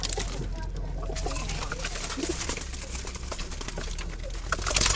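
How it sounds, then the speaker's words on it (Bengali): Pure Jalali-type domestic pigeons kept in baskets coo softly and steadily beneath a constant low hum of background noise, with no talking. "দেখুন দর্শক, কোয়ালিটিফুল কবুতর এখানে"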